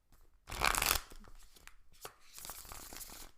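A loud burst of tarot cards being riffle-shuffled, a quick crisp flutter, followed by softer shuffling and tapping of the deck.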